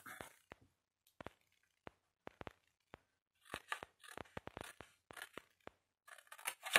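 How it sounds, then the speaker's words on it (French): Scissors snip through paper while cutting out box pieces, with a series of short, crisp cuts arriving in quick irregular bursts, close and fairly quiet, with no talking. "Ensuite, vous prenez l'autre morceau et vous venez couper là."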